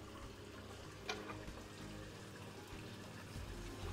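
A Crompton Optimus 100-litre desert air cooler's water pump runs steadily after being switched on, giving a continuous low trickling, splashing water sound with a faint hum, one brief click near the start, and no talk.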